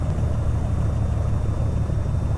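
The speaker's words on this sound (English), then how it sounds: "These come with a, I think it's a bit over 100 horsepower Rotax engine." A simulated Rotax engine of just over 100 horsepower in a Piper Sport light aircraft drones steadily in X-Plane 10, a continuous close, even hum with no voices.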